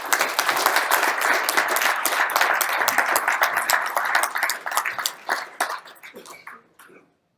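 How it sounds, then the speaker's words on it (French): A crowd at an agreement signing ceremony applauds, dense clapping at first that thins into scattered claps and fades out near the end. "Applaudissements pour tous."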